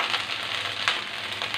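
Garlic and ginger paste sizzling steadily in hot oil for a Bangladeshi-Chinese beef sizzling dish, a close, continuous frying hiss with a few brief louder crackles, no talking.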